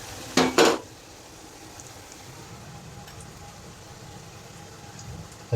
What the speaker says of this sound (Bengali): পেঁয়াজ কুচিটা নরম না হওয়া পর্যন্ত নাড়াচাড়া করতে থাকবো